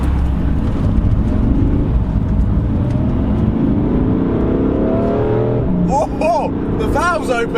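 A new BMW M3 in Sport Plus mode accelerating, its engine rising in loud rolling pitch as revs climb, then shifting and revving again near the end, with a voice talking over it.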